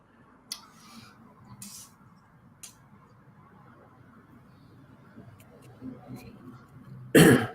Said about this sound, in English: Just gonna have a cough.